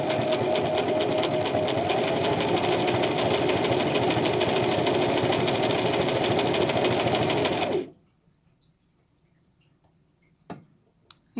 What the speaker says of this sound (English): Now the machine is going to go from the top down to the bottom where you first started your stitches.